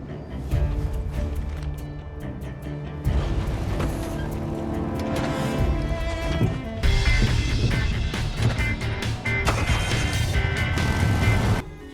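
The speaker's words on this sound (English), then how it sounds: "This is how long it takes to drive a buggy." A buggy drives across terrain in a video game, its engine droning steadily with music layered over it and surges where the engine revs harder, loud and continuous throughout.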